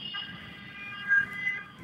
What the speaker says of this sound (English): the cars are hooting